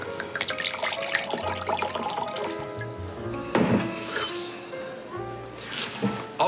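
Drinks are poured into glasses, a gurgling liquid stream that keeps going over several seconds, with faint background sounds and occasional clinks.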